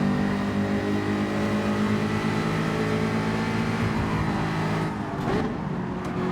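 Race cars in the Gran Turismo 7 racing game roar steadily with sustained engine drone, shifting slightly as revs change near the end, no voices over them.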